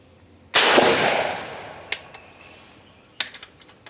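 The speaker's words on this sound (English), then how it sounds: "Let's get a little range time and shoot these." Gunshots from 50-70 cartridges made from converted 32-gauge brass shotshells fired at a range: one loud sharp blast with a long decaying echo, then two fainter sharp reports a little over a second apart.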